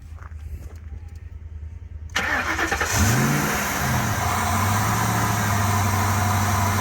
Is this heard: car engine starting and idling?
yes